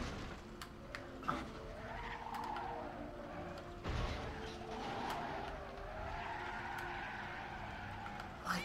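A car driving in the video game Banjo-Kazooie Nuts and Bolts, with a steady engine drone, some tyre squeal and a few sharp clicks and knocks, playing continuously and fairly quietly.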